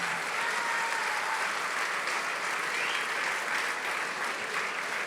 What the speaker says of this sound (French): on peut l'applaudir bien fort s'il vous plaît, Julien Delannoy